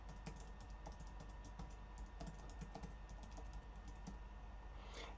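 An email address being typed on a computer keyboard: quiet, rapid key clicks in a steady, uneven stream, close and faint, with no voices.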